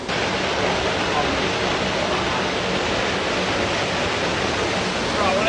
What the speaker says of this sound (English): Called Galleny waterfall